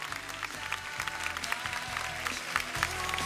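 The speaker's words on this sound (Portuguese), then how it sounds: "Auditório, pode aplaudir, porque esse cara merece." A television studio audience applauds steadily, a busy wash of clapping hands with sharp individual claps standing out, over a low rumbling hum in the room.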